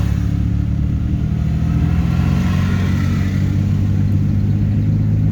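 A learner driver's car engine hums steadily and loudly up close, a low droning note that holds fairly even while gears are changed, with no talking over it.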